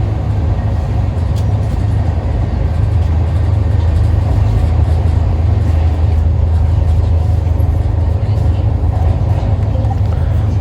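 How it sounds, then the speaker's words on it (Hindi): The Brahmaputra Mail train running at speed while overtaking a MEMU train, heard as a loud, steady low rumble with constant rolling noise and no clear breaks. "और यहाँ हम लोग एक मेमू ट्रेन को ओवरटेक कर रहे हैं।"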